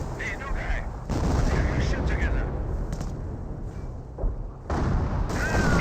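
Rifle grenades burst amid battlefield gunfire in the World War II strategy game Company of Heroes, with dense crackling shots and sharp booms layered under a commentator's continuous voice.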